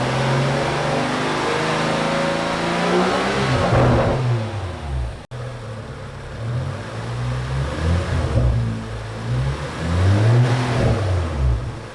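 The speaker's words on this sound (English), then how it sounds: "I'm hoping you could hear the intake properly" A 2013 BMW 335i E92 with an N55 engine and aftermarket Burger Motorsports intake revs hard several times, its intake roaring and whooshing as the pitch climbs and falls, loud and close.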